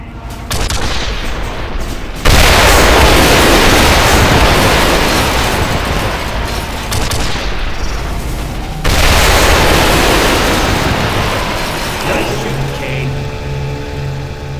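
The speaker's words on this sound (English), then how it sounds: "Kane, hop in the cannon and see if you can't blow open the door to the access corridor." Heavy cannon fire in the sci-fi shooter Quake 4 blasts open a door to an access corridor, with two loud booming blasts a few seconds apart, each rolling into a long roaring rumble of debris and battle noise.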